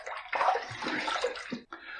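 Tap water runs steadily into a basin while rinsing during a wet shave with a Hendrix Classic shaving soap, a loud continuous splashing wash with a brief dip near the end.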